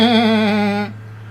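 A single wavering sheep bleat from the video game The Legend of Heroes: Trails of Cold Steel, lasting under a second and then giving way to a faint, quiet background.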